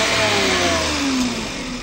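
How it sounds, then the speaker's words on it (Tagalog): A Toyota Wigo engine revs steadily at close range, a continuous loud mechanical drone with a slowly falling pitch and no voices. "Mukhang sisibakin ng kasama ko yung makina."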